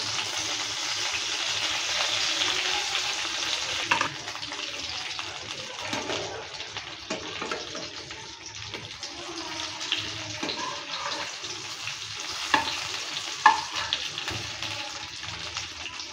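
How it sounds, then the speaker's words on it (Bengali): Brinjal fries in a pan, giving a steady, moderately loud sizzle with a few soft clinks and scrapes as the pieces are turned, and nobody speaks. "এভাবে উল্টে পাল্টে ভালো করে ভেজে নেব।"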